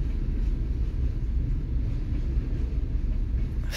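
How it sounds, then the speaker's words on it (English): A long freight train with two locomotives pulling and one pushing rolls past, a steady, moderately loud rumbling drone throughout with no talking. "That is a long one, man. That's an actual train. That's a full-on locomotive."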